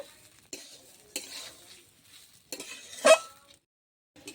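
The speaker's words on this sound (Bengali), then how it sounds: "আর একটু ঘি দিয়ে দেবো। চালটা একটু ভাজতে হবে।" Rice grains frying in ghee for Basanti pulao, with a few scraping stirs of a spoon in the pan and a brief louder clatter near the end, amid soft sizzling.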